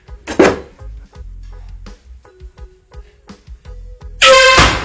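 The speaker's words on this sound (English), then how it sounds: "Air horn prank." Two loud air horn blasts go off close by as a prank, one short burst near the start and a longer, sustained blast at the end, with quiet knocks and movement between them.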